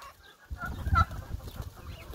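Roosters and turkeys on a small farm during feeding, with close clucking and short crowing-like calls over scratchy movement and background farm noise, no talking.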